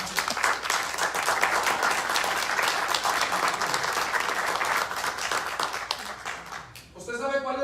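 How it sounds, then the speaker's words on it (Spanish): A church congregation applauds, a loud, continuous patter of many hands clapping for several seconds before fading as a voice speaks at the end. "Dele palmas a Dios."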